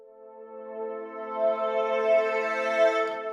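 A large, sustained synth pad built in VCV Rack with the Surge chorus effect turned up, forming a steady harmonic drone that swells gently and holds for the whole stretch, alone without talk.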